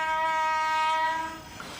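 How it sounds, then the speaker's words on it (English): Freight car wheels screech loudly and steadily as the brake shoes of a hump yard retarder press against them, a sustained high metallic squeal that fades near the end. "That loud screeching you hear is the brake shoes of the retarder pressing against the metal wheels"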